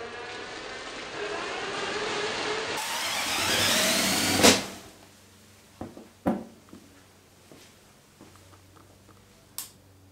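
A spin art machine whirs loudly while spinning a painted card with red, gold and white paint, then cuts off abruptly, leaving scattered clicks and knocks.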